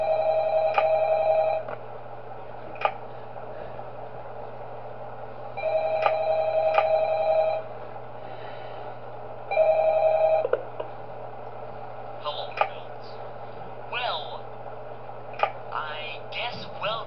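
In the Shadow Chaos Pizzeria video game, a telephone rings in three steady electronic bursts spaced a few seconds apart over a low hum, and then a person talks over scattered clicks.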